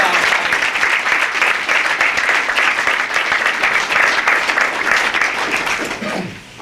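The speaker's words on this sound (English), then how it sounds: "You gotta clap it up." Loud, dense applause from a crowd at a Hartford mayoral campaign announcement held at a community college, sustained clapping for several seconds before tapering off sharply at the end.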